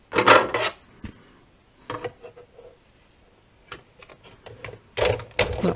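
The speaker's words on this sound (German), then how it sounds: "Oh, das knackt immer so schön. Wenn es so schön knackt, dann weiß ich, okay, alles durchgestanzt." A die-cutting machine punches small holes through paper, giving loud crackling bursts at the start and the end, with quieter creaks and taps in between.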